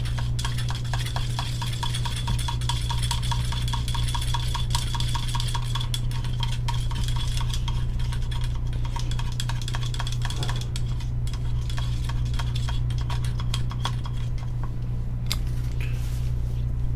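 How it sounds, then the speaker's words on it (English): Smooth Cast 300 casting resin is stirred continuously, with a fast, steady run of small scraping and clicking strokes against the container over a constant low hum, close and soft. "This is a stir well."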